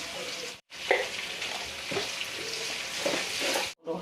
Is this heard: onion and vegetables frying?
yes